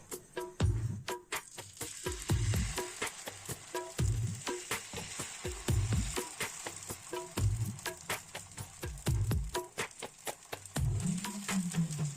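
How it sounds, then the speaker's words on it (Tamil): Sweet bottle gourd dosa batter cooks on a hot tawa with oil and ghee, giving a steady close sizzle broken by a regular series of soft low thumps. "தவா காயும் கொஞ்சம் எண்ணெய் நெய்யும் கலந்ததை விட்டுட்டு தோசையை ஊற்றுவோம்."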